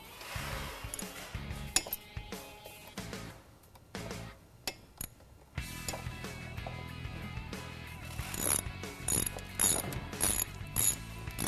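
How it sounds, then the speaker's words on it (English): A hand ratchet tightens the brake caliper bolts on a motorcycle fitted with Galfer brake pads, giving bursts of rapid clicking up close with metallic clinks and brief pauses between runs. "with pressure held onto it, you're going to want to tighten up your caliper bolts."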